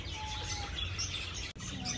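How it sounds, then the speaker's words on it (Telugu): Assorted birds chirp and tweet continuously in an open-cage aviary, a dense layer of overlapping calls with a steady low rumble underneath and a brief dropout near the end. "రకరకాల బర్డ్స్ అవి ఉన్నాయండి ఇక్కడ"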